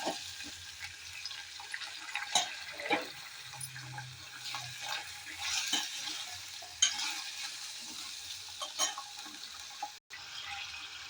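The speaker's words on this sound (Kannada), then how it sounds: "ಈಗ ಒಗ್ಗರಣೆ ಜೊತೆ ಚೆನ್ನಾಗಿ ಮಿಕ್ಸ್ ಮಾಡ್ಕೊಳ್ಳೋಣ ಇದನ್ನು" Sweet pumpkin pieces are stirred through a tempering in a pan: a steady soft sizzle with repeated scraping and shuffling of the spoon, close and moderately loud, with no talking.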